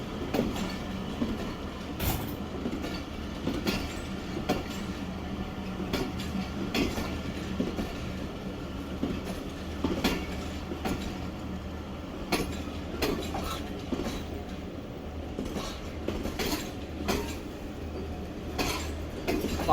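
A fully packed Pak Business Express passenger train travelling from Lahore toward Karachi rumbles along steadily, with rhythmic wheel clatter and occasional squeals heard from inside the air-conditioned coach, continuous and fairly subdued.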